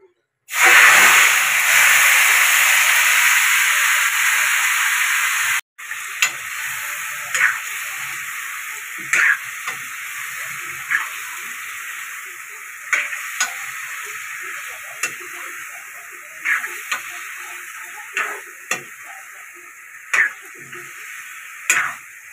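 Chicken hits hot oil with sugar in a pan and erupts into a loud, close sizzling hiss. It settles into a quieter steady fry broken by sharp periodic clinks and scrapes of stirring.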